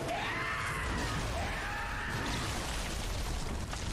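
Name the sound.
screeching and wailing of Bloodborne DLC final boss, video game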